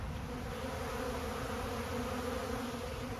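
Honey bees swarm thick around people during a honey harvest, crowding a door and drawn to the exposed honey: a dense, loud, continuous buzzing drone that fills the whole moment with no letup.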